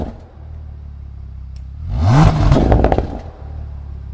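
A Bentley Flying Spur's 6.0 W12 biturbo engine idles low, then flares into one sharp, loud rev that rises and falls back to a burbling idle.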